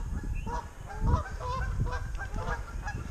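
Geese honk repeatedly at close range in a swamp, overlapping nasal calls coming in bursts over outdoor background noise.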